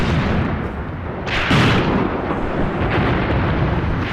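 An sFH heavy howitzer fires in the World War II game Graviteam Tactics: Mius Front, a single deep boom about midway that rolls out over a dense, rumbling battlefield din.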